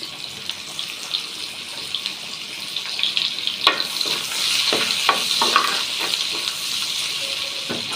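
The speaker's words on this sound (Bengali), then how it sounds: "এখন আমি ভেন্দিটা ভাজি করবো এখানে দিয়ে দিলাম পেঁয়াজ" Onions sizzle in a pan for okra stir fry, a bright, fairly loud hiss with a few stirring clicks and scrapes, and no voices.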